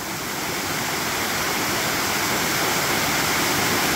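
A waterfall roughly four and a half metres high pours steadily along a river, a loud, continuous broadband rush of falling water with no break or voices, filling the whole moment close by.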